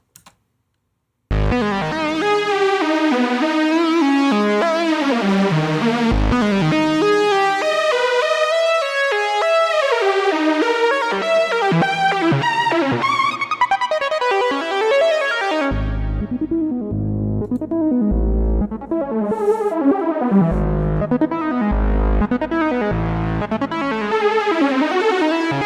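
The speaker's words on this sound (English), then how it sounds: "it's just like arpeggios constantly moving through chord changes" A Halloween electronic music track of arpeggios running steadily through changing chords, with bright synth notes cascading over deep pulsing bass hits that enter partway through, loud and continuous with no voices.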